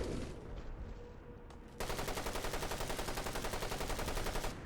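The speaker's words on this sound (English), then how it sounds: "so I'm just gonna have to shoot him normally." Gunfire in Fallout 4: a muffled burst, then a sustained stretch of rapid, evenly spaced automatic shots, loud and close, with no talking.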